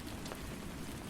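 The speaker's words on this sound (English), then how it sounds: "Outside, the rain intensified," Steady rain falls in a dense, even hiss, faint and continuous with no voices over it.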